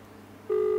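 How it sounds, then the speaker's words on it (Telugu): A WhatsApp call tone on a phone speaker cuts in after faint hum, holding as a steady, loud electronic beep to the end without voices. "కాలింగ్ రింగ్ అవుతుంటే వర్కింగ్."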